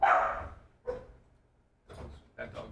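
A dog in a radio-show setting gives about four short, sharp barks spaced across a couple of seconds, fairly quiet and mixed with background voices.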